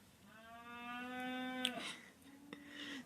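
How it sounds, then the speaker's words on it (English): Cows mooing outside at feeding time on a farm, one long drawn-out low moo followed by a shorter second call, fairly distant and faint, with no talk. "the cows are going nuts out there and it's really distracting."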